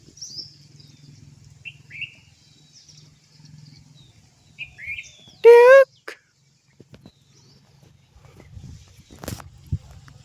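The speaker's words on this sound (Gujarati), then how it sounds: "જો લીમડામાં કેટલા મોરલા બેઠા છે।" Peacocks perched in a neem tree let out one loud, ringing call in the middle, set against faint scattered chirps of other birds and occasional soft footsteps.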